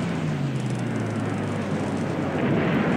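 Aircraft engines drone steadily through an air battle in the War in the Pacific naval strategy game, a loud, dense continuous roar with a slowly falling tone near the start and no speech.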